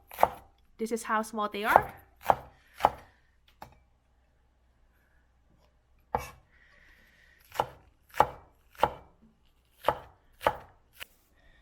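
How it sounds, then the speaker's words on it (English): A knife chops scallion into small, tiny pieces on a board. It starts with a quick close flurry of sharp chops, then comes a quiet pause, then a run of evenly spaced single chops. A voice speaks briefly. "we cut the scallion into small tiny pieces"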